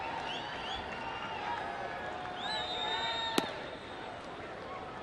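A baseball stadium crowd cheers and claps to lift Arizona pitcher Eric Stoltz through a bases-loaded, no-out jam, a steady distant roar with scattered whistles and a sharp clap near the end, under a commentator's voice.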